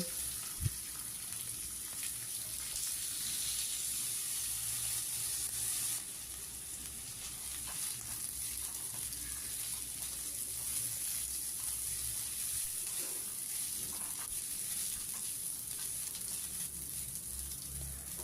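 Gobindobhog rice stirred and fried in oil with hing in a pan for Bhoger khichuri, giving a steady, close sizzle with occasional stirring scrapes that runs unbroken and alone.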